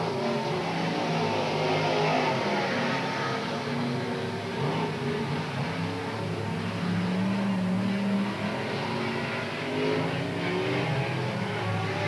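Stock cars race around Willamette Speedway, a continuous loud roar of several engines droning and revving together as the pack laps the oval, steady for the whole stretch with no voices over it.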